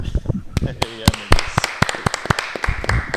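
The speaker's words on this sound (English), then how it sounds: "I want to give a round of applause for our special guest. So everybody clap it up." A small group in a podcast studio claps for a special guest, sharp scattered hand claps popping unevenly while people keep talking and laughing over them.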